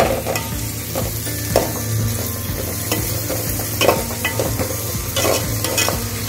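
Vegetables for Kerala-style aviyal sauté in a pan, with a constant sizzle and intermittent scraping stirs close by, no voices.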